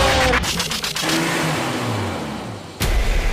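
A toy monster truck's motor whirs and revs loudly in short bursts, with a pitch that rises and falls, and ends in a sudden louder surge near the end.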